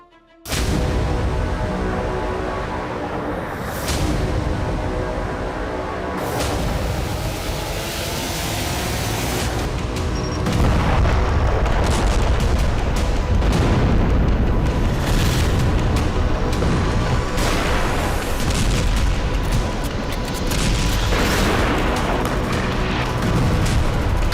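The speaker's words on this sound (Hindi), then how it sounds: "सीरिया की धरती पर भीषण धमाके।" Explosions from bombing in Syria rumble as deep, continuous booms, loud and dense throughout with repeated heavy blasts and no talk.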